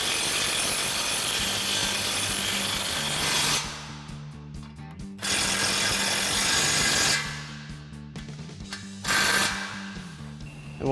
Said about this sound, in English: we'll go ahead and tighten these back down with our 22 mil socket on our impact